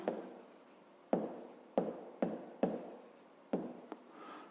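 Pen strokes scratch across paper while a fifth-grade math exercise is written out by hand, in short separate bursts with small pauses between them. The sound is quiet and close.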